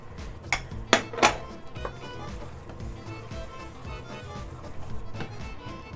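Wooden or metal spoon stirring prawn and leek risotto in a pan, with a few sharp clinks against the pan early on, then softer steady scraping and stirring.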